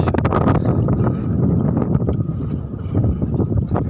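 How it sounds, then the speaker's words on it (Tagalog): Strong wind buffets a small boat at sea with a broken-down engine, waves slapping and gurgling against the hull in a steady, loud roar with wind noise on the microphone throughout. "ganitong kalalakas ang alon tsaka hangin"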